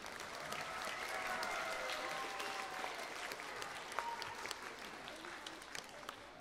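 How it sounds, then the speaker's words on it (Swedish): An audience at a Swedish concert event gives a performer a round of applause, with moderately faint, steady clapping for several seconds that slowly tapers off. "applåd för Niklas"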